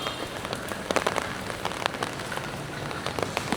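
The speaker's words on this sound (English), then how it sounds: "It's raining non-stop, so not many people are out." Steady rain falls in Da Nang, Vietnam, at the start of the rainy season, a dense close patter of drops hitting hard surfaces with scattered louder splats and no voices.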